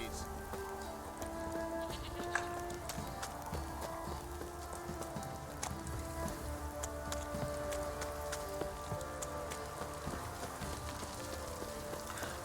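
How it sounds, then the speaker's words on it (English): Heavy rain pours down in a downpour in the video game The Witcher 3: Wild Hunt, a steady dense hiss with scattered drop ticks, faint and unbroken throughout with soft background game sounds. "This downpour's a bastard,"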